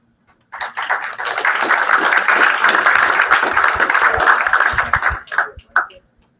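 A crowd breaks into steady applause that swells, holds, then trails off into a few scattered claps.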